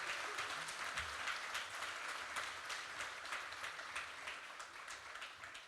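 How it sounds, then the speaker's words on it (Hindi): An audience at a Hindi political debate applauds to welcome Tehseen Poonawalla to the stage, with sustained, fairly distant clapping that slowly tapers off. "भाई जोरदार तालियों से इनका भी स्वागत करें।"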